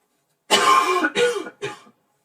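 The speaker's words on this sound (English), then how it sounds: "I'm gonna cough again" Three harsh coughs close to the microphone, one long and two shorter, separated by brief pauses.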